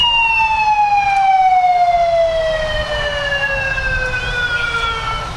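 A fire engine siren from a Fire Protection District, heard in a Fourth of July parade, wails loud and close, its pitch sliding steadily down as it passes, with crowd noise underneath.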